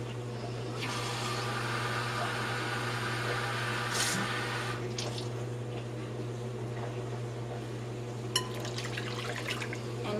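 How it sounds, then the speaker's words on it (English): Warm water poured from a cup into a yeast mixture while making challah bread, a steady close liquid trickle running for several seconds over a constant low appliance hum, with a small clink near the end. "Then you are going to put another 1 1/4 cup of warm water"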